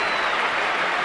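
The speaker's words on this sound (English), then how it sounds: "reward his goal with a ripple of applause." Football crowd at a Manchester United versus Ipswich Town match gives a steady ripple of applause for a goal, a dense, even wash of clapping from a large stadium audience.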